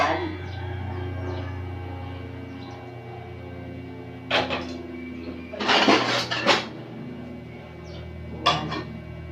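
A kawali frying pan is lifted and set down in a home kitchen, giving a few distinct metallic clanks and scrapes over a steady low hum, with a clear pair of bangs midway and another near the end.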